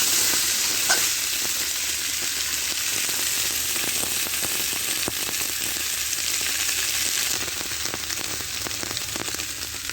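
Taro roots and about a dozen green chilies frying in a pan, a dense continuous close sizzle with occasional stirring scrapes, steady and loud from start to finish.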